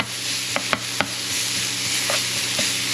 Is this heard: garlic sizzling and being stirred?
yes